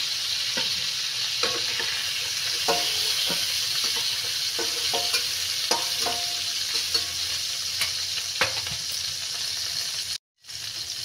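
Prawns frying in hot oil give a continuous dense sizzle, with scattered light clicks of a utensil against the pan and a brief cut to silence near the end.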